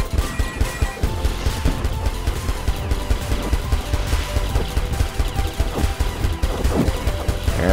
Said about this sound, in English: Man, I love being able to shoot quickly.